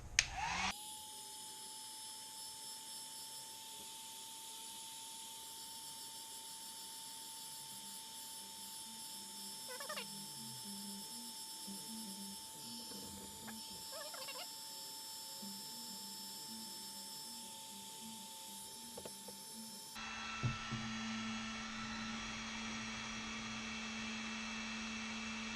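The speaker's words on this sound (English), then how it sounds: "heat it up with the heat gun to shove in here" A heat gun blows steadily for about twenty seconds while warming a part for a trolling motor install on an Ascend 128T kayak, a constant whining airflow hum that stops, then a lower hum follows.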